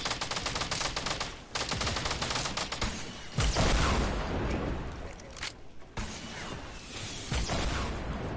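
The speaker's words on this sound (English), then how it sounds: "I'm getting murdered with a fucking SMG." Rapid submachine gun fire in an online duos shooter video game, dense and continuous bursts crackling with overlapping shots and heavy impacts throughout.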